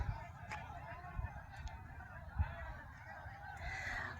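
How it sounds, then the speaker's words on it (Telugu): Faint squawks and calls of roosters at a cockfight drift over a low outdoor rumble, with scattered distant voices. "అదిగోండి కోడి పందాలు"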